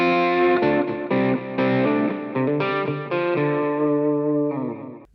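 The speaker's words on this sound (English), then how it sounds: "You can use it with electric guitar." Electric guitar played through a compact practice amp, distorted and chorused chords struck in a steady series, loud and close with no talking.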